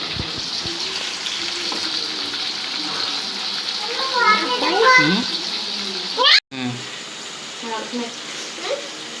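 Large pieces of food fry in a pan with a steady, close sizzling hiss, while voices talk over it in the middle of the clip.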